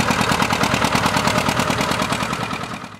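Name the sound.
two-cylinder diesel tractor engine running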